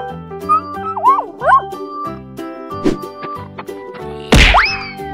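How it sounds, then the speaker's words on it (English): A toy gives out a cartoonish electronic dog bark among bouncy synthesized tune notes and boing-like slides. It is loud and close, ending with a sharp burst. "Dog."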